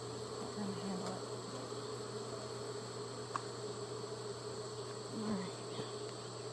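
Honeybees buzz at a hive, a steady dense hum with occasional louder passes of single bees close by, while a person speaks quietly nearby.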